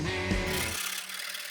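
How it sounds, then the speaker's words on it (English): A metal file rasps against the cut-off fret ends on a handmade guitar, a brief close scraping stroke that stops abruptly after under a second. "then we use a file to trim down these cut off end"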